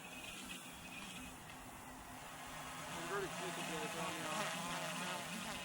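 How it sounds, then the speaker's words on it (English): Close quadcopter motors buzz steadily with a wavering, fluctuating drone as the counterclockwise prop axis struggles to stay balanced, the whine swelling slightly louder partway through. "that is the sound of the motors trying to compensate for one another on the counterclockwise axis"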